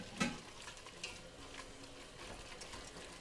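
Fettuccine carbonara being tossed with egg, Parmesan and guanciale, giving soft, steady wet stirring and scraping at close range, with a sharper clink near the start and no talking.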